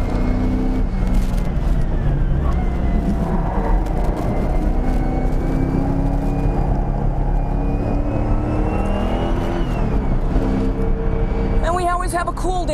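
A race car engine on a track drones loudly and steadily throughout, its pitch sliding as the driver shifts down through the gears; the sound is close and continuous, with talk over it.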